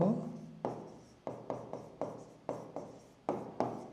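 Pen strokes scratch out a trigonometry proof, a series of about nine short, close, quiet scrapes in an uneven rhythm, each fading quickly, with no voice.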